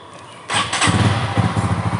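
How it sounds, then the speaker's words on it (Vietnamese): A motorcycle engine, a scooter fitted with a homemade light switch device, cranks and fires after a short quiet lead-in, then settles into a steady, close, uneven idle for the rest of the moment. "bây giờ mình sẽ nổ máy lên cho anh em xem"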